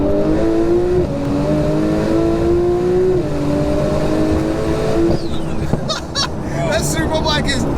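A 1536bhp Porsche 911 Turbo S with a 4.1L stroker engine accelerates hard, its engine note climbing through repeated gear pulls with short shift breaks, loud and close, before wind and road roar take over near the end.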